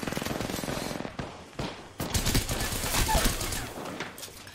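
Rapid automatic gunfire from an Apex Legends match, with dense bursts of shots, a brief pause and then sustained firing that stays close and loud throughout, and no voices.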